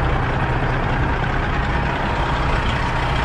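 1998 International cabover truck with a 12.7 Detroit engine idles in a steady, loud, rumbling drone, close by and uninterrupted.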